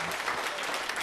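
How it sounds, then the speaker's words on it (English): Church congregation applause during a Christmas service, a brief dense burst of many hands clapping, loud and even. "Give them another big round of applause"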